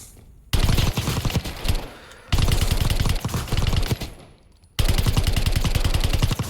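Burst-fire weapon in Call of Duty: Warzone, rapid loud bursts of gunshots in three sustained volleys separated by short pauses.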